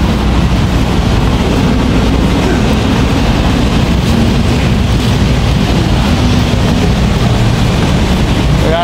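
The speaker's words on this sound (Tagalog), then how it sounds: "LRT ang daan, oh." A light rail (LRT) train passing close by in a city, a loud steady rumble of wheels and carriages with faint rail clatter, continuous throughout and with no voices.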